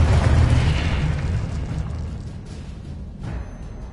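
A Confringo explosion spell from a Harry Potter video game bursts as a loud, deep boom that rolls off into a fading rumble over a few seconds.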